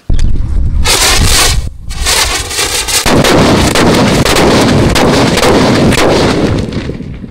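Rural homemade firecrackers set off in half a foot of water give loud, dense blasts with heavy rumbling spray, a brief lull near the middle, then a sustained thunderous roar lasting to the end.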